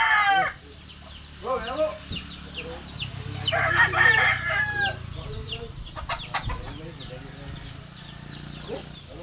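Chickens cluck and a rooster crows nearby, with scattered squawks and a low hum underneath while people talk in the background.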